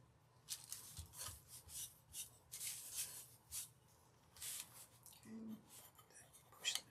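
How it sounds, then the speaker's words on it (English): A wooden nutcracker being rubbed by hand to remove excess Tamise, giving soft, close scratchy rubbing strokes in short repeated bursts. A quiet bump is heard near the middle. "as I go around and rub the rest of this off"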